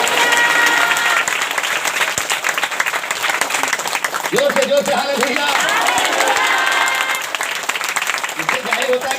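A church congregation claps loudly and continuously during a Hindi worship service, dense applause filling the room while a preacher shouts over it and the crowd murmurs.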